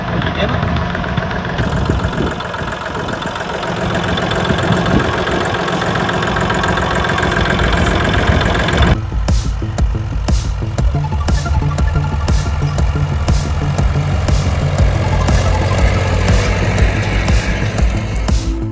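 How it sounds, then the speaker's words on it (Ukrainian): A Shifeng 244 tractor pulling a Bomet disc harrow runs steadily and loudly throughout as the engine heats up, with a rough idling rumble that shifts to a harsher, knocking chug partway through. "трактор починає грітись"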